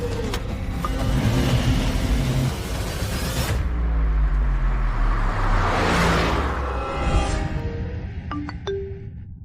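A car drives steadily with a loud, continuous engine drone and road rumble, the engine note rising then easing, with a short chime near the end.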